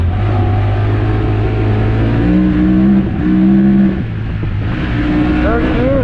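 A Honda Talon X side-by-side's engine revs loud and close, pitch climbing then dipping briefly around each shift as it moves up into third gear, with a steady drone between.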